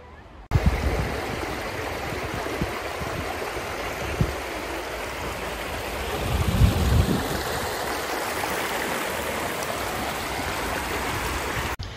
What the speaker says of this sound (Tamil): அந்த வாட்டர் வந்து செம்ம ஃபாஸ்ட்டாக ஃப்ளோ ஆகுது